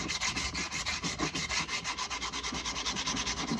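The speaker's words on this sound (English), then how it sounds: "So I'm going to take the file for that actually." A file scrapes back and forth along a hickory axe handle, smoothing out deep rasp marks in a steady rhythmic series of close, even strokes with no talking.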